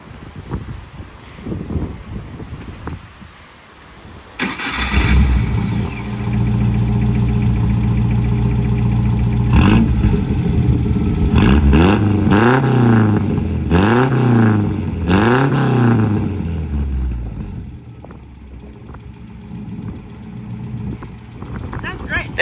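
A Ford Anglia with a swapped engine cranks and catches after a quiet start, then idles loudly up close and revs in several rising bursts before settling back, with wind buffeting the microphone.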